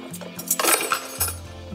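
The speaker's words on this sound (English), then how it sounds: "throw them right there in our little dish drainer" Washed dishes set into a small home dish drainer, with several close, bright clinks and clatters of dishware knocking together, ending in a short settling rattle.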